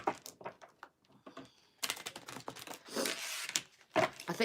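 A deck of tarot-style cards is shuffled in a rapid ruffling burst, then a longer stretch of quick papery riffling and slaps, close and fairly crisp.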